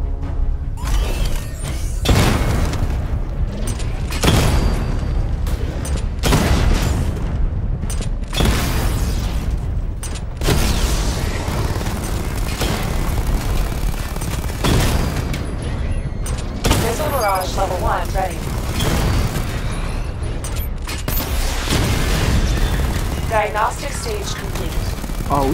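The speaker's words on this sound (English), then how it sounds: "Destroy targets to charge up weapon energy and activate missile barrage." Missile barrage explosions from the Batman: Arkham Knight Batmobile training test boom in repeated heavy blasts, with mechanical whirs and an in-game voice narrating alongside.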